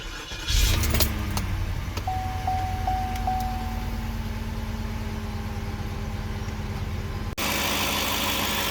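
A 2010 Northstar engine cranks and catches after a starter replacement, then settles into a steady, close idle with a faint electronic chime sounding a few times, before a sudden shift to a brighter, noisier hum near the end.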